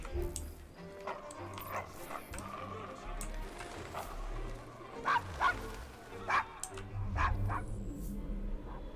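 A dog in the Assassin's Creed Syndicate video game barks and whimpers in a run of short, sharp yips, rising louder toward the end over a low background din and faint voices.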